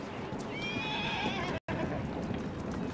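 A horse in the video game Assassin's Creed Syndicate gives a loud, wavering whinny over steady clip-clop hooves and continuous background noise, with a brief dropout midway.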